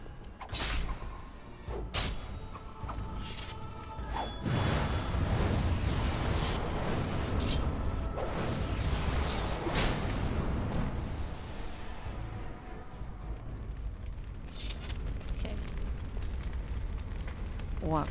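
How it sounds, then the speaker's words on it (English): Fire roaring in the fantasy game Dragon Age: Origins, a loud continuous crackling rumble with bursts and pops throughout, under occasional sharp effects. "walk through the fire"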